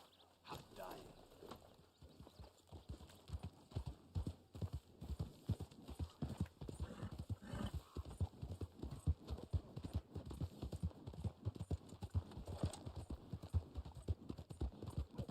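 Horse hooves clip-clop steadily in Red Dead Online, a dense run of close, regular hoofbeats with faint talk in the background.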